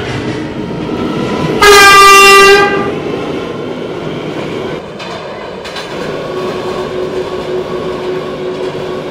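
An R179 New York City subway train on the Brooklyn-bound C local, near 163rd Street–Amsterdam Avenue, rumbles loudly and steadily, with a sharp tonal horn blast near the start before the running noise continues.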